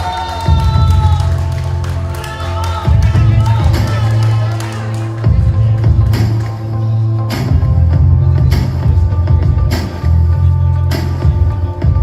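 A crowd applauds and cheers steadily at the crowning of Miss Województwa Wielkopolskiego 2020, a Miss pageant final in Poland. Claps stay loud and continuous throughout, mixed with music and a presenter's voice.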